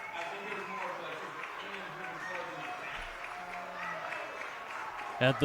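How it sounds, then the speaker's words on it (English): Home crowd at a Bristol Blues baseball game against the Worcester Bravehearts cheering and applauding with two strikes on the batter, a steady roar of clapping and voices beneath an announcer's play-by-play. "As the Blues crowd is cheering on Nowak."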